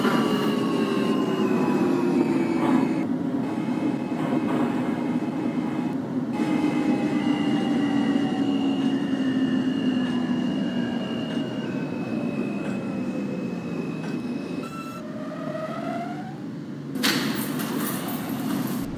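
A simulated NYCT R160A Alstom subway train on the F line rumbles steadily with rising and falling motor whine, a loud continuous run with tonal pitch sweeps and a sudden brighter burst near the end.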